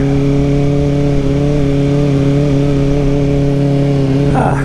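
Kawasaki ZX-4RR 40th Anniversary Edition sport bike engine while riding, a steady loud mid-pitched drone holding an even note throughout, with a brief burst of wind or rustle at the very end.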